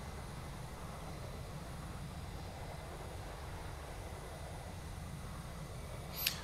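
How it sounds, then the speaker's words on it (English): Airliner engines heard from inside the cockpit in the X-Plane 11 flight simulator, a steady, even roar and hum with a faint high whine, unchanging throughout with a brief click near the end. "how you can hear the engines screaming from inside the cockpit"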